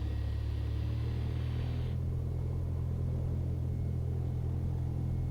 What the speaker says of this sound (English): Skyhawk 89 uniform taking off runway 35, departing to the north